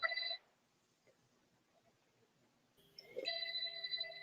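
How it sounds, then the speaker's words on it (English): A phone-like electronic ringing with steady tones, heard briefly at the start and again more loudly near the end after a quiet stretch, in a home setting during talk about things that go bump in the night. "There was like a ringing."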